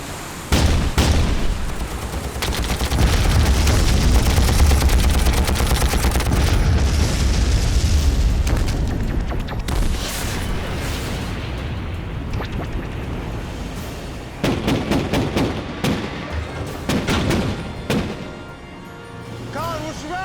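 A naval warship battle scene from an action movie: a missile impact with heavy explosions and gunfire, a loud, continuous rumbling roar broken by sharp booming bursts, with voices heard faintly at moments.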